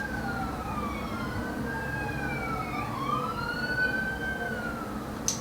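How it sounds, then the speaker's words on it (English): Emergency vehicle siren wailing outside, heard from indoors as rising and falling tones that sweep steadily and hold fairly clear over a low background hum, with no talking. "I'm sorry for the noise of the siren outside."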